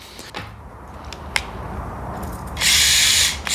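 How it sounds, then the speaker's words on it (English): Faint mechanical clicks and a low hum, then a loud, steady electric whirring buzz like a small servo motor twitching for nearly a second before cutting off, from the gyro on a micro RC drift car. "That's the gyro on and working, so I will need to dial that in."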